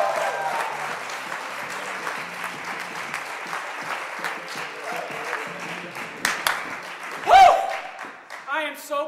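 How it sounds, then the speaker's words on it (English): A live comedy-show audience claps and cheers on cue, a dense sustained wash of applause from a crowd in a room, with a few louder whoops near the end. "everybody make noise so Mike knows to come back in the room"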